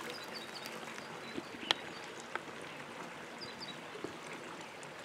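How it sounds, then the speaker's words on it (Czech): A small babbling stream in the Křivoklátsko woodland, a faint, steady trickle and burble of water with a few soft splashes, heard alone at a distance. "Ještě je tady takový hezký potůček."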